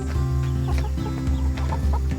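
A chicken released into a garden clucks in short repeated bursts, loud and close, with rhythmic clucks stacking over a low steady background hum.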